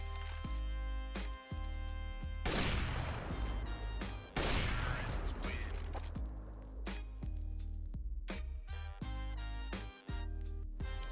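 Gunfire from a CS:GO player shooting through a wall on the Mirage map, with several sharp bursts of shots and crisp rapid reports set against a continuous bed of game music.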